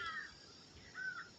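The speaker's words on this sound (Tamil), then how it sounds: "இப்போ அந்த ஒரு காக்கா சத்தம் போடுதுன்னு நினைக்கிறேன்" A crow caws twice in a quiet natural outdoor setting during the rainy season, each call faint and distant and spaced about a second apart against a soft background hiss.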